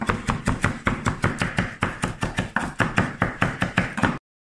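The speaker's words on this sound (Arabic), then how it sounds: "نقطعوه بهذا الشكل باش ما يكونش كبير بزاف" A knife chops raw chicken breast into fillets on a cutting board: about twenty quick, evenly spaced, close thuds in a steady rhythm, then an abrupt stop.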